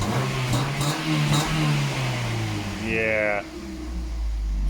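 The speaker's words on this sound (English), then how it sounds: "Give it some revs." A Ford Focus with a loud aftermarket can exhaust idles with a deep drone and blips into a short rev that rises and falls, close by, under brief talk.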